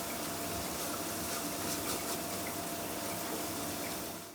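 Warm water runs steadily from a tap into a container holding a frozen block of beef stock, a continuous close hiss and splash lasting throughout, fading slightly at the end.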